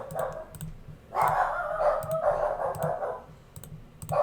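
Dogs bark in short repeated bursts indoors at moderate distance, mixed with sharp clicking sounds.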